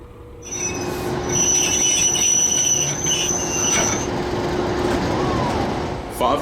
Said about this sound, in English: the DE detaches from the train and runs around to couple onto the other end